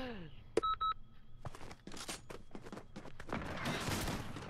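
Shotgun fire in the video game Fortnite: a sharp blast with a few electronic beeps, then a string of quick cracking shots and rising dense clatter in a busy fight.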